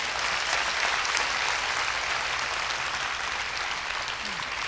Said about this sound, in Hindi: यदि हैं तो ताली बजाइए।